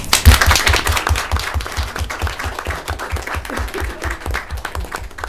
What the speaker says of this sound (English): Round of applause for everyone.